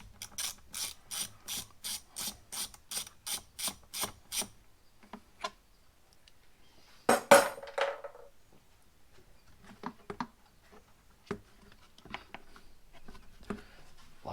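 A ratchet wrench clicks through rapid, evenly spaced pawl strokes while loosening 10 mm bolts on an intake manifold cover, then falls quiet, followed by a louder scraping burst as the part is handled and scattered faint taps.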